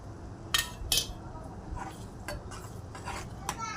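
A spoon stirs dal in a metal pot, giving a few sharp clinks against the side and softer scraping between them, fairly quiet and close.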